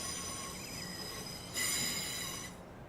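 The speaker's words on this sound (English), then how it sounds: "Get some train sounds here." A train rolls through Clapham Junction station with a steady rumble and high, sustained wheel squeal. The squeal swells louder for about a second before easing off. The sound is close and heard alone, with no voices.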